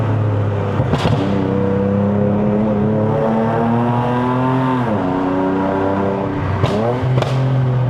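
A Lexus RC350 V6 drones loudly and steadily from inside the car, its pitch falling and then jumping back up with two quick throttle blips on the downshifts, as heard on a mountain road climb in Malaysia.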